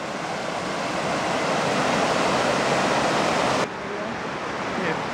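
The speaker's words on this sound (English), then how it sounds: "This is Foster Falls." Foster Falls, a waterfall reached on a camping trip, roars as a dense, steady rush of falling water that stays loud from start to finish and drops slightly near the end.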